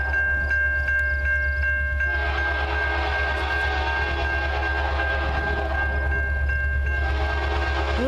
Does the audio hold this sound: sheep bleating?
no